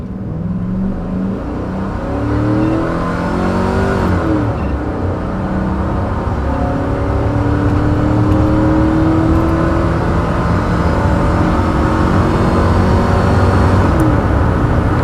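A 2005 Chevy Silverado with the 5.3 V8 pulls hard down a quarter-mile drag run, its engine note climbing steadily through the gears as it accelerates. The sound is loud and continuous from start to finish, with no voices over it.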